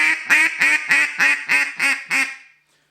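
A handheld duck call blown in a steady series of eight rhythmic quacks, evenly spaced and loud, close up with no talk, the last note trailing off into silence.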